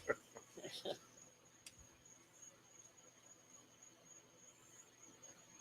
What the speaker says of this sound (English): It's the cicada.